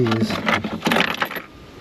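A set of keys drops and jangles, a short metallic clatter and chink up close, with a voice speaking over part of it.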